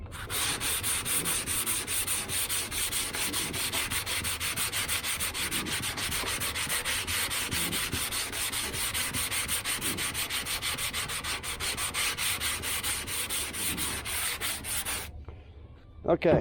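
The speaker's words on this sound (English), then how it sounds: "so you just go over all the areas with 80 grit, blocking it" Hail-damaged 2009 Mustang body being block sanded by hand with 80-grit paper: loud, close, steady scraping strokes in a quick continuous rhythm that stop abruptly near the end.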